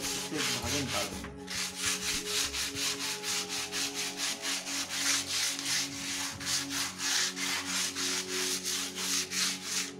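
A handmade night lamp is sanded with 80 grit sandpaper in steady rhythmic back-and-forth strokes, rasping close and loud, about three strokes a second, with no talk over it.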